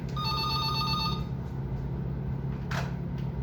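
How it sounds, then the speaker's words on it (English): Phone ringing with an incoming call, an electronic ringtone trilling for about a second over a steady room hum before it cuts off, followed by a brief clunk. "now I'm getting a phone call"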